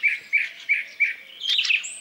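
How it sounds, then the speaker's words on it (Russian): A thrush singing nearby, four evenly spaced clear phrases followed by a more complex warbling flourish, loud and alone with no other sound. "И еще одна певчая птица — дрозд."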